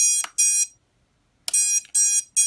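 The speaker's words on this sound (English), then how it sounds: "So now when you flick that switch, you hear it beeping." High electronic beeps from a model electronic speed controller in beeper mode sound in short bursts, two quick ones, a pause, then three more, clean and close with nothing else around.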